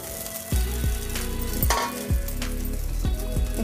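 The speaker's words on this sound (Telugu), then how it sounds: "ఇప్పుడు బాగా మిక్స్ అయ్యేలాగా కలుపుకోవాలి." Cooked rice mixed with fried coconut in a pan, a continuous sizzle with repeated scraping strokes of the spatula, heard alongside tonal background music.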